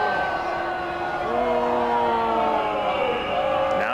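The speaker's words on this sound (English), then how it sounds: "Now you hear the People's Bank crowd start to get on him" A baseball crowd at PeoplesBank Park jeers a struggling pitcher, a loud sustained roar with drawn-out wavering tones sliding through it, steady from start to finish.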